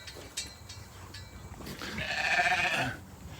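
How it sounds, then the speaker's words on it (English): Sheep bleat on a farm: a few faint sounds at first, then one clear, drawn-out bleat close by, with no talking. "I'm going to have a floodgate of all these sheep coming in here"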